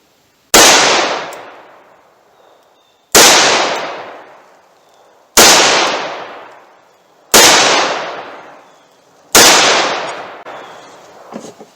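.38 Special revolver gunshots fired over a chronograph: five sharp, loud reports spaced about two seconds apart, each with a short decaying echo, no talking between them.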